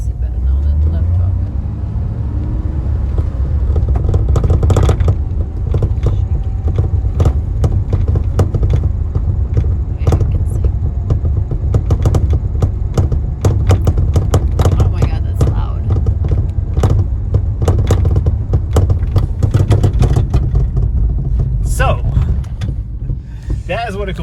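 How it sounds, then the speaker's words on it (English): Worn-out rear strut mounts on a Porsche 997 thud and clunk over bumps while driving, heard inside the cabin as irregular knocks over a steady low road rumble. "I'll give you a quick example of what completely destroyed rear struts, not really struts, but strut mounts sound like"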